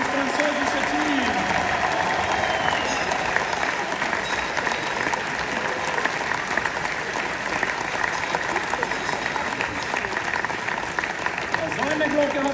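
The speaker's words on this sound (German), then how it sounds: "Applaus" Steady, sustained clapping from the closing ceremony crowd of the 5th CISM Military World Winter Games in Lucerne, applauding the French team, with murmured voices and a faint hum beneath the applause.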